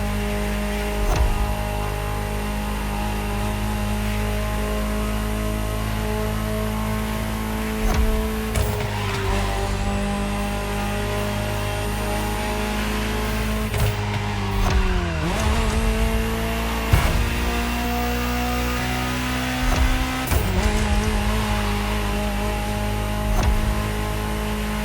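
A Ferrari supercar in a video game drives with a continuous engine drone, rising and falling through several gear changes and revs, and some tire squeal, the engine held close and loud the whole time.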